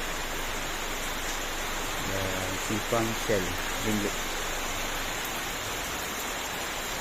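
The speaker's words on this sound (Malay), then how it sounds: "Kehujanan di Masjid Anur Singgit" Steady rain falls at a hilltop mosque in Cameron Highlands, a constant broadband hiss throughout, with someone briefly talking over it midway.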